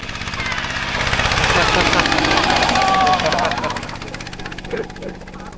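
A long-neck two-wheel farm tractor engine chugs with a rapid, rough thumping rhythm in rural Laos, loud and near, swelling and then fading while someone talks over it.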